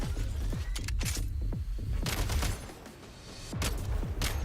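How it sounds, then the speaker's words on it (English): Nerf blaster shots standing in for gunfire in the game Genshin Impact, heard as a series of quick, sharp pops in irregular clusters, moderately loud, with a brief lull midway and no talk. "This is actually Nerf shots, believe it or not."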